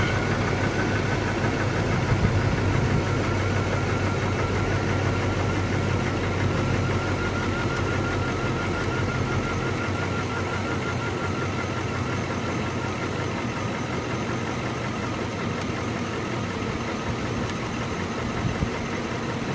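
A car engine idles steadily after an antifreeze top-up, a continuous close, even rumble with a faint knocking texture that stays constant throughout, with no one speaking.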